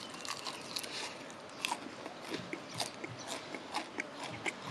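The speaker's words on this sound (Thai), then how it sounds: "ดูเหมือนจะกรอบอยู่นะ นี่ขนาดราดซอสแล้วเนี่ย" Crispy spicy Korean fried chicken coated in sweet sauce being bitten and chewed up close, a quiet run of repeated crunchy crackles and bites in an irregular rhythm, with no talking.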